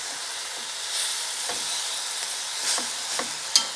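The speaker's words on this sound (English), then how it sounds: "I'm gonna stir everything for everything to come together" Noodles with minced beef stirred in a pan over lowered heat, a constant bright sizzle and hiss with occasional soft scrapes and a sharp knock near the end, close up, no talking.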